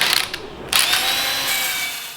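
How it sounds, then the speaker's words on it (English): Wire wheel on a power tool brushing a Powerstop brake rotor to clean the surface, a loud continuous whirring scrape with a brief break and harsh bursts early, running steadily close up. "he's hitting with the wire wheel"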